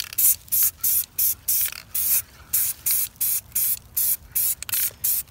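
An aerosol can sprays a thin coat of paint onto a brake hub from a 1965 Scout 800 drum brake axle, in a dozen short, even bursts of close hissing separated by brief pauses.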